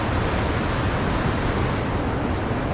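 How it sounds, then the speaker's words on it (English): Steady, dense rushing of a waterfall in Cambodia, loud and close, a continuous roar without breaks. "just listen to this very therapeutic waterfall"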